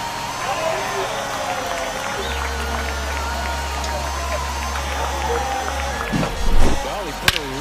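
Home baseball crowd roars after a game-tying home run in World Series Game 6, Red Sox at Cubs, a broad sustained cheer with applause under a commentator's talk, swelling near the end.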